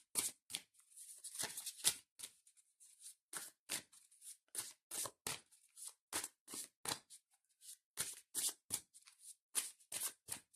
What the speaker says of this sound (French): Je mélange pas mal quand même pour qu'on ait bien les cartes.